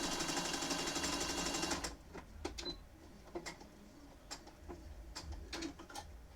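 A sewing machine stitches appliqué on a Pokémon quilt: a dense, fast mechanical whir for under two seconds, then stops, followed by faint scattered clicks and taps.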